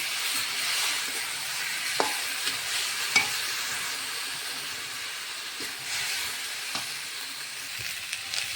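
Potatoes frying in a pan with ginger, cumin, green chilli paste, coriander and chilli powder, a continuous sizzle and hiss broken by occasional sharp clicks of a spatula stirring, steady and close with no talking.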